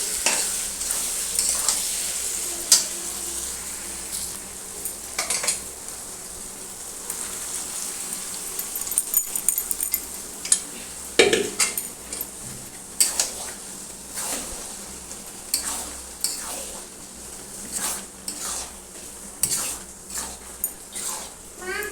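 Metal spatula scraping and stirring through spices and peas sizzling in a hot pan for ghugni, with crackling frying noise throughout and irregular louder scrapes, no talking.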